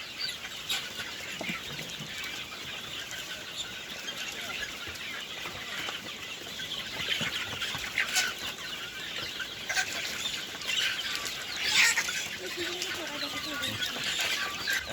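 Chickens cluck continuously in a busy farm flock, with scattered wing flaps and rustling, fairly close and steady throughout.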